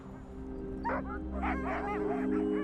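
Sled dogs on polar ice give a cluster of short barks, yips and whimpers, several overlapping calls close by over a steady low hum, with no talking.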